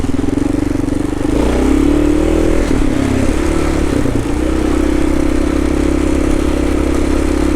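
A 2018 Kawasaki KLR650 motorcycle on a ride to work, its single-cylinder engine droning loud and steady up close with a brief dip and rise in revs midway, mixed with constant wind rush.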